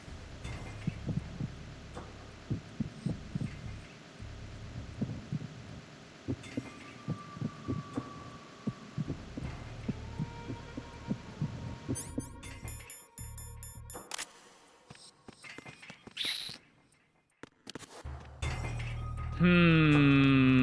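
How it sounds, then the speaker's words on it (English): A heartbeat sound effect from the video game Metal Gear Solid 2 thumps steadily in a repeating low pulse, then breaks off into sharp shattering and clicking game effects, ending in a loud tonal burst. "If I was the president, what would my heartbeat sound like?"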